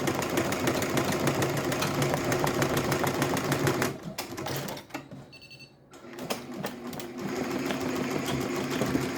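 A Tajima TMBR1501c embroidery machine stitches a cap with a loud, fast, steady mechanical chatter that breaks off briefly in the middle, then resumes at full rhythm.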